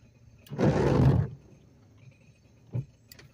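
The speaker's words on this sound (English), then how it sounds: "Car sounds terrible, doesn't it?" A loud, rough rumbling burst for under a second, then a brief second rumble, like a car engine running unevenly; the car's engine is running rough.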